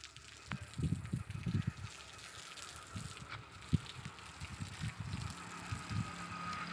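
Water gushing and splashing outdoors in a village, with bursty spurts and a sharp splash, fairly close and moderately loud.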